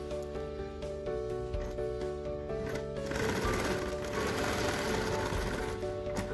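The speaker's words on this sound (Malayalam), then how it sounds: "ആദ്യം കൂടെ തന്നെ നമുക്ക് സ്റ്റിച്ച് ചെയ്ത് കൊടുക്കാം." A sewing machine stitches a door mat, running steadily with a continuous mechanical whirr and rapid needle clatter, nearby and steady, no voice heard.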